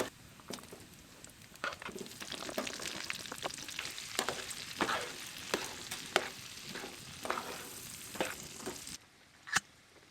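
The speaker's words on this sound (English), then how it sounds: "I'm about to put these peppers and onions in there and cook it all in that" Peppers and onions crackle and sizzle in a greasy pan at a camp stove inside a hot tent, a steady busy frying hiss broken by frequent pops and spatters, close and fairly quiet, with no one talking.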